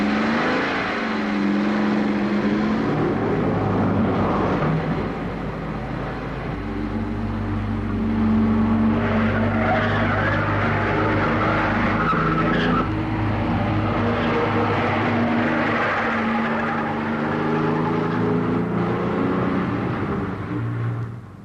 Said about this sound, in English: When driving hard, automatic transmission selects and changes gear at the best moment for full load and performance